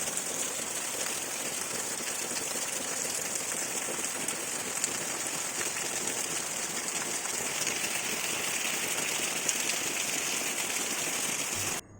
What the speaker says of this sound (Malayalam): ഇന്ന് രാവിലെ തന്നെ നല്ല മഴയാണ്.